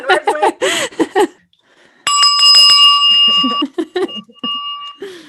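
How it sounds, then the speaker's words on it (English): A desk bell rings once with a bright sustained ding that rings out for over a second, set between bursts of speech before and after. "I'm looking for my bell"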